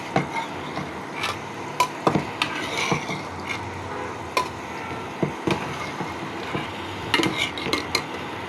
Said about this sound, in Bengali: আলতো করে নাড়াচাড়া করে দিব